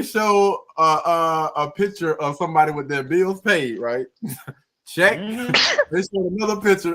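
A man sneezes sharply during a podcast, a short burst set among his own continuous talk, with speech resuming right after.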